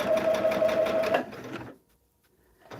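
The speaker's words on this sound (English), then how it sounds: "I'm sewing in between the solid line." A sewing machine stitches a quilt with a lengthened stitch, running fast and steady for just over a second, then stopping. A softer burst of stitching follows, with a quiet pause before it picks up again at the end.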